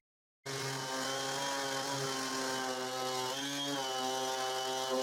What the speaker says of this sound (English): So I keep sanding all the frame.